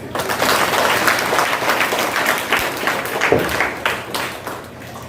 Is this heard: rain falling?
no